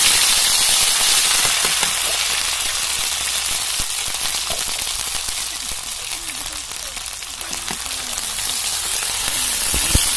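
Loud, continuous hiss and crackling sizzle as ginger paste hits hot oil in a pan of village-style fish curry, with dense popping spatters throughout and a voice talking underneath.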